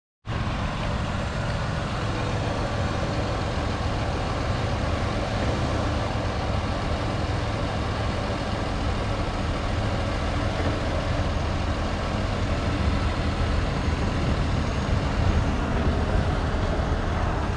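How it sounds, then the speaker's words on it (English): A Chevrolet Impala engine idles steadily with a low, even rumble, close and unbroken for the whole stretch; no separate wiper sweep stands out above the motor hum. "We're going to turn the car on and turn on the windshield wipers"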